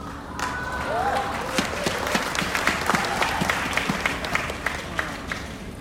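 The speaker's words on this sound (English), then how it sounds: "Thank you for clapping for yourself." An audience at an inspirational talk claps for themselves, building into a moderate round of applause with individual claps standing out, and a voice can be heard under the clapping.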